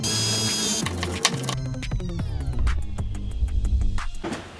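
Motorized TV lift inside a DIY wooden cabinet moves at the push of a button, a continuous mechanical hum with rattling, clicking ratchet-like ticks, close and moderately loud, without speech.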